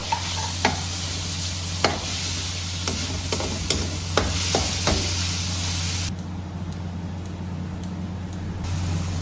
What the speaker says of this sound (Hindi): इसमें कीमा डाल दें और अच्छी तरह भून लें।